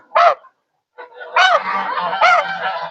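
A goose, a large grey breed about 60 days old, honks loudly up close, one short call followed after a pause by a longer series of harsh, nasal honks.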